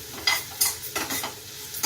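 Curry leaves hit hot tempering oil for a sour elephant-foot yam curry, giving a loud, close sizzle in several sharp bursts as they are stirred in the pan, with no one talking.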